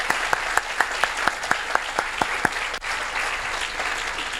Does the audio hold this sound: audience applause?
yes